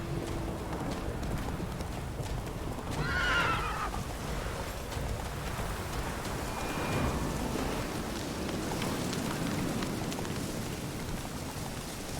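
Roach, a horse in the video game The Witcher 3, with hoofbeats, a whinny and snorting breaths over a steady rain-like wash of ambience, moderately loud and continuous.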